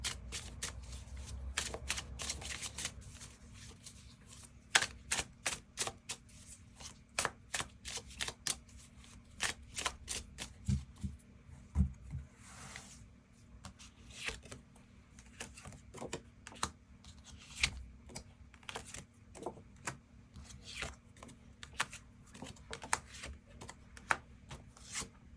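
Tarot cards are shuffled over and over in a quiet room, giving a rapid run of crisp riffling slaps and soft flicks that come in bursts with short pauses, close and clear with no talking.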